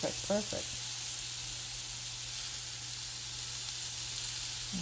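Chicken sizzles on a hot grill pan as it is turned, giving a steady, loud, close hiss throughout, with a brief voice at the very start.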